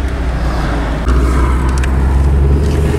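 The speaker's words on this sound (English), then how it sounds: "We'll take it for a quick little drive to verify that it doesn't have an overdrive." A Volvo wagon driving on the road, with a steady, close engine drone and road rumble, a slight rise in level partway through, and no talking.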